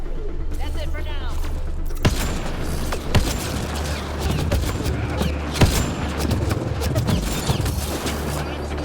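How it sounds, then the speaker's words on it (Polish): Gunfire in the sci-fi shooter Mass Effect: Andromeda: several sharp shots punch through a dense, steady wash of game action and background music, spaced irregularly across the scene. "tam do mnie strzela"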